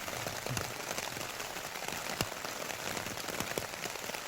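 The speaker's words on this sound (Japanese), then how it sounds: "雨すごいし雷になってるけど" Heavy downpour drums steadily on a camping tent during an autumn backpacking trip, a dense, close hiss of countless drops with occasional louder taps, no talk over it.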